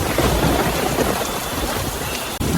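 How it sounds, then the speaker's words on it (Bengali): Heavy rain pours in a dense, steady roar, with a low rumble of thunder rolling underneath; no voices. "মুষলধারে বৃষ্টি পড়ছে আর মাঝে মাঝে বজ্রপাতের শব্দ"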